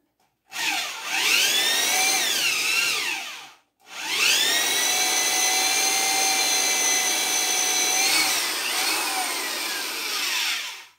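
A power drill fitted with a Forstner bit whirs loudly in two long bursts while boring into a wooden rocking chair part, its pitch sliding up and down as the bit bores in and eases off.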